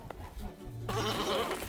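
A baby goat on a farm gives one loud, near, wavering bleat in the second half, after quieter rustling.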